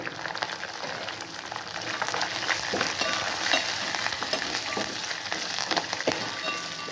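Curry leaves, green chillies and spices for pulihora tempering crackle and sizzle steadily in hot oil, a dense popping hiss that continues without pause, close by and with no voices.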